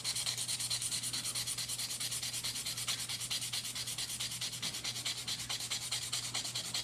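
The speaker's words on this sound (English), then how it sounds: "you'd start with your 220, and you give it some rub like that" Hand sanding with 220-grit sandpaper on a Taurus G2C pistol part: quiet, rhythmic back-and-forth rubbing strokes at a steady pace, close by, with no other sounds.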